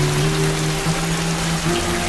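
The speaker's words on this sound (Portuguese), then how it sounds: "Esta estação registra a maior quantidade de chuvas do ano, com chuvas torrenciais vitais para o crescimento das vastas pastagens." Torrential rain falls across the grassland of the Mongolian steppe, a dense, unbroken hiss of drops pouring down steadily, with a faint low hum running beneath it.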